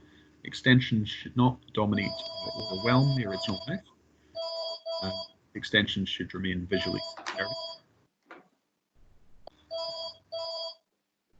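A mobile phone rings during an online planning review meeting, with repeated electronic ring bursts that first play under a person reading aloud and then continue alone in short, evenly spaced pulses.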